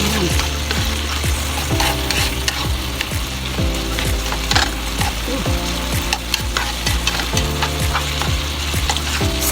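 Korean bulgogi sizzles loudly as it is stirred and mixed in a frying pan, a steady crackling fry with repeated scraping strokes throughout, close and without talk.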